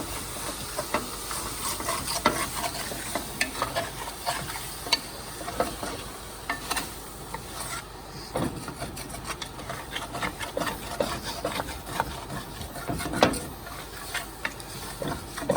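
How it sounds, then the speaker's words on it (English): Beef jambalaya being stirred in a pot, the spoon scraping along the bottom in steady rasping strokes over a constant low sizzle, close up with no talking. "we're going to scrape everything off the bottom of this pot."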